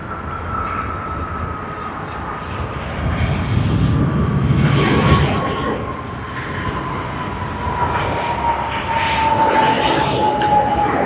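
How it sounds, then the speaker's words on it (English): A Qantas Airbus A330-300 lands at Sydney Airport, its engines a loud, steady roar with a droning tone that swells midway and again toward the end, heard from nearby outdoors. "What we see on screen right now is QF128, Hong Kong to Sydney service on Qantas's Airbus A330-300."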